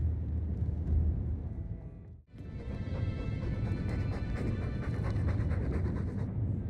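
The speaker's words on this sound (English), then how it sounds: "All that noisy dog breath, day in, day out, make him stop." A dog pants steadily and loudly in Dragon Age II, a continuous rapid breathy rhythm that briefly drops out mid-clip and then resumes at the same close, noisy level.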